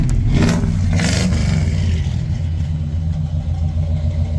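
A Chevrolet squarebody truck engine runs steadily after a gas tank install, a loud close rumble with a slight rev near the start, then settling into an even idle with no talking.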